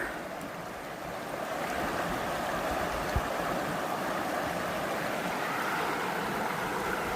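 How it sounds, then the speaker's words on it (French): River rapids and a small cascade swirl over rocks in a steady, unbroken rush of water at moderate level, with no voices. "Avec le remous et effet cascade, ça fait un peu comme un spa."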